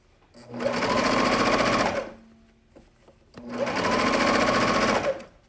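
A domestic sewing machine runs two steady bursts of stitching through jersey fabric, each lasting about a second and a half with a short pause between, close and loud with no voices.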